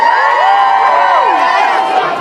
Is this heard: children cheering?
yes